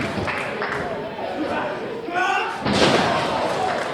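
At a wrestling match, a wrestler drives an opponent into the mat with a sunset bomb, a heavy slam and thud landing under commentary, with crowd noise swelling behind the talking.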